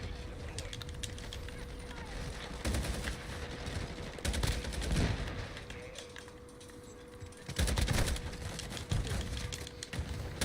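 Video game gunfire crackles in scattered bursts at moderate level, with several louder volleys standing out among quieter shots and background noise.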